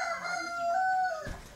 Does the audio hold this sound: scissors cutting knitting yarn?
no